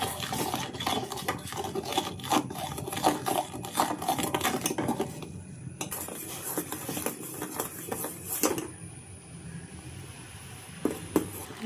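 Powdered navara rice cooking into a creamy paste in a pan, stirred with a spoon: close, irregular scraping and clinking against the pan in quick bursts, with no talk.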